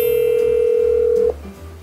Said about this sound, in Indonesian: sekarang aku bakalan telepon kakak kelasku dulu